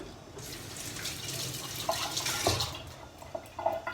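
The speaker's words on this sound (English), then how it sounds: "So just rinse them with some water." Tap water runs steadily into a sink while sticky, garlic-coated fingers are rinsed, with a few brighter splashes and drips near the end and no talking.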